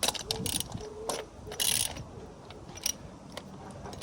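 A ratchet tightens the bolts on a new upper control arm bushing of a 1997 Rover 600 / Honda Accord, heard as close, rapid mechanical clicking in short bursts with brief pauses, no talk over it.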